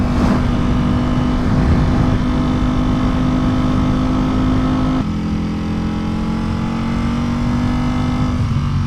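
Ducati V4 Superleggera motorcycle being ridden, a loud steady engine drone close up with a pitch drop around the midpoint as it shifts, then continuing to cruise.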